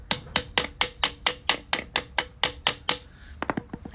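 Someone strikes a seized Makita power tool with damp-damaged brushes to free it, landing about a dozen sharp, evenly spaced knocks close by, then a quick cluster of lighter taps.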